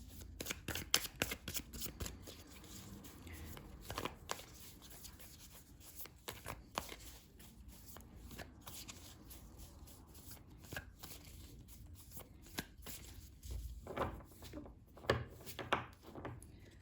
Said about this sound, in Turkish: Şöyle desteği karıştırıyorum arkadaşlar.